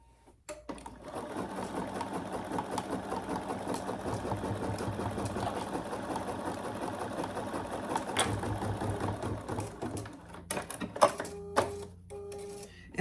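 An embroidery machine stitching the front bottom piece of a laptop bag, a fast steady mechanical chatter of needle strokes that runs for about ten seconds, then stops and gives way to a few clicks and beeps.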